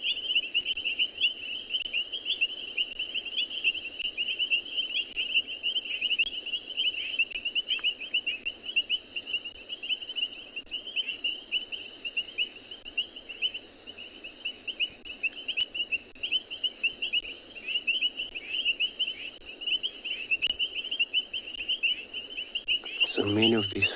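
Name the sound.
painted reed frogs calling at night in South Africa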